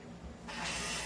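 Lubricant sprays from an aerosol can onto a Glock 17 airsoft pistol, a sudden close hiss that starts after a quiet moment and holds steady to the end.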